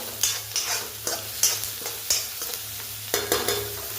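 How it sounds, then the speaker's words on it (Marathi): Chopped onion fries in a hot pan for sev bhaji, with a spoon scraping and stirring it in regular strokes every half second or so over a steady close sizzle. No one speaks. "कांदा व्यवस्थित लालसर होईपर्यंत परतायचं आपल्याला आता मी कांदा परतून घेते"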